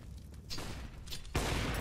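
Gunfire in Counter-Strike (CS:GO): a few sharp shots spaced apart, then a louder burst that sets off sustained noisy clatter, all fairly close.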